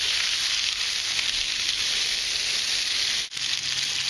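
Steak searing on a Himalayan salt block, a steady, loud, broadband sizzle that holds continuously, with one brief dropout near the end.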